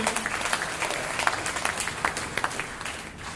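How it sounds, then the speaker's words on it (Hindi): An audience at an RCM business seminar in Gurugram, Haryana, breaks into steady applause, a dense patter of many hands clapping at moderate loudness and fading slightly at the close. "एक बार जोरदार तालियां उनके लिए"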